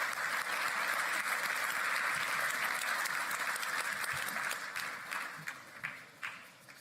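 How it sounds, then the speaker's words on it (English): Sustained crowd applause during a horse race broadcast on Future Stars Friday, a broad steady roar of clapping that thins into scattered individual claps and fades out over the last seconds. "I would love a round of applause for all connections thus far on Future Stars Friday."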